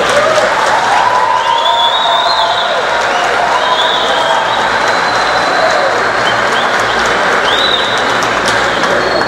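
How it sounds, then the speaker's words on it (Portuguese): Audience applause fills an opening ceremony at a large spiritist gathering in Campo Grande, a steady, dense wash of clapping that holds loud for the whole stretch, with faint voices and cheers mixed in. "Vamos dar uma salva de palmas."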